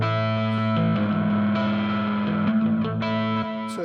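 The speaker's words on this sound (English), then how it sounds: "So if I've got this nice distortion guitar," Distorted electric guitar patch on a Korg Kronos workstation, played by the Karma engine as a steady picked pattern of sustained, overdriven notes and chord changes, loud and alone with a slight effects sheen.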